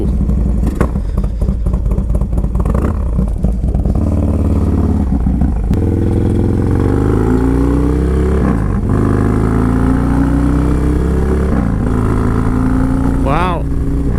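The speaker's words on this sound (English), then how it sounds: "First ride ever on a Lowrider S." A Harley-Davidson Dyna Low Rider S motorcycle rumbles loudly while being ridden, its engine droning and rising through the gears close to the rider, who talks over the noise with wind in the background.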